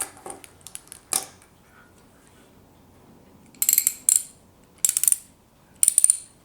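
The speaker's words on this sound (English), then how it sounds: "but then you have a 120 click Seiko bezel" A Seiko SRP043 Spork dive watch's 120-click bezel is turned by hand, giving close, crisp bursts of rapid ratcheting clicks in short runs separated by brief pauses, with no talking.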